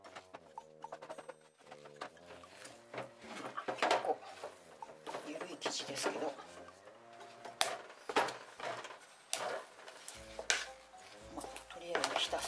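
Bread dough with sugar and yeast being mixed by hand in a small home kitchen, giving soft irregular stirring, scraping and tapping sounds in close uneven bursts, with a few louder knocks against the bowl.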